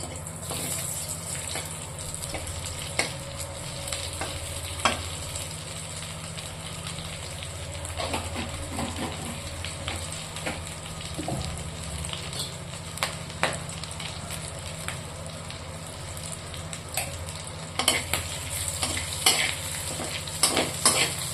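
Dried red chillies, cinnamon, cloves, black peppercorns and cardamom fry in hot oil with a steady crackling sizzle, while a spatula stirs and scrapes through them in repeated close strokes, with sharper pops standing out near the end.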